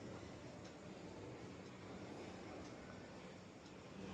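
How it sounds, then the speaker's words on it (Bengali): A metro train at a station, a steady low rumble and hiss of the running train, continuous and very faint throughout, with no voices. "মেট্রো চলে এসেছে এবারে উঠে পড়ার পালা"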